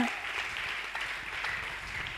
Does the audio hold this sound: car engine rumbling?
no